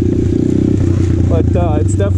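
A 2020 Apollo RFZ Open 125cc pit dirt bike is ridden along a trail, its small engine buzzing loud and close throughout with steady revs while a rider speaks over it.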